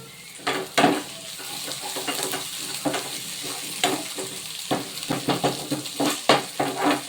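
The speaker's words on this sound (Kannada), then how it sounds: "ಫೈನಲ್ ಆಗಿ ಶುಂಠಿ ಬೆಳ್ಳುಳ್ಳಿ ಪೇಸ್ಟ್ ಒಗ್ಗರಣೆಗೆ" Crushed ginger garlic paste fries in a pan for tempering, its close, crackling sizzle broken by frequent spoon scrapes and metallic clinks against the pan.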